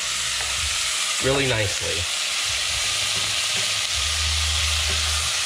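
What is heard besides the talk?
pork browning in a pan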